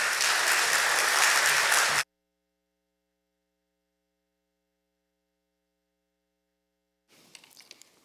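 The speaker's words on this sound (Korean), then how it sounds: "나오실 때 환영의 박수로 맞이하겠습니다." Congregation at a church Sunday service applauding to welcome a pastor to the pulpit: a dense burst of clapping for about two seconds, then silence with faint hum, and a little quieter shuffling near the end.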